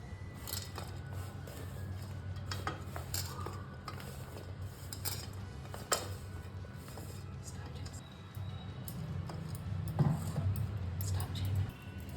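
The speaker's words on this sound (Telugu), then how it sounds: "కొట్టి పెట్టుకున్నటువంటి బెల్లం ముక్కలను కలుపుకోవాలి" Crushed jaggery pieces are stirred into black sesame powder in a bowl, giving soft scraping and light clinks of a spoon against the rim, with a voice talking over the quiet mixing.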